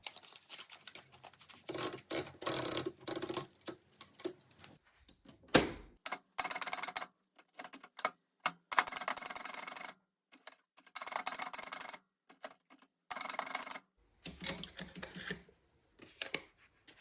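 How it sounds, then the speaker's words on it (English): Typewriter keys striking in quick irregular bursts with short pauses between words, a carriage-return-like thump near the middle, close and clear with no voices. "let me take you to my typewriter and we will put a sentiment on here"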